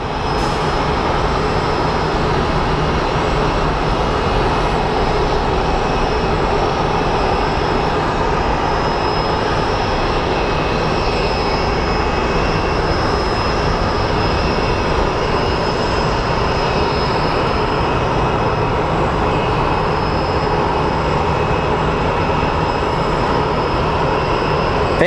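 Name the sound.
Boeing 777 jet aircraft at Phoenix Sky Harbor airport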